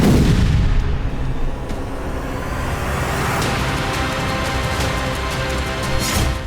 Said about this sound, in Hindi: बम हमले से एक साथ कई विस्फोट हुए